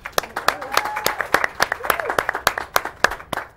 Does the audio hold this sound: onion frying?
no